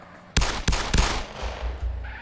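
Gunfire in the video game MTA San Andreas: three sharp loud shots in quick succession, then a rumbling tail and a faint further pop.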